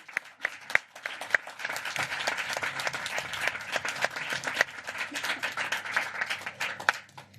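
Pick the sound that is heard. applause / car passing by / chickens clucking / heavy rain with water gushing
applause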